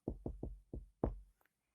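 Knocking on a wooden front door: four quick, heavy, hollow knocks in a steady rhythm, then a fifth louder one after a short pause, close and alone in otherwise quiet surroundings.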